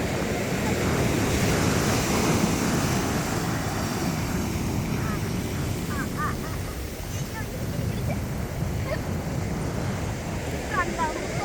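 Sea waves washing onto a beach, a steady broadband roar of surf and wind buffeting the microphone throughout, with faint voices now and then.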